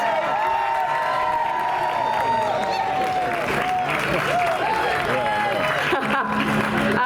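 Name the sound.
crowd applauding fans at Walk of Fame ceremony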